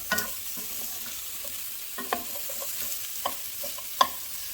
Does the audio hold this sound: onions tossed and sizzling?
yes